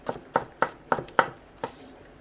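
A flat-ground knife slicing a potato gives six crisp, evenly spaced chops on a board, close and clear, with short pauses between cuts.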